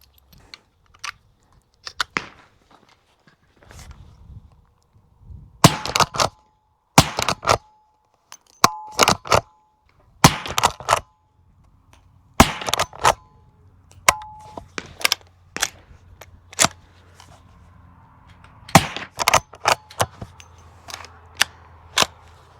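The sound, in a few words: suppressed subsonic rifle gunshots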